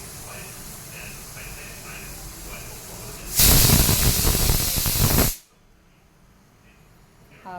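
A pressure cooker holding mutton curry lets out a loud burst of hissing steam for about two seconds, cutting in sharply and stopping abruptly, with quieter kitchen background before and after.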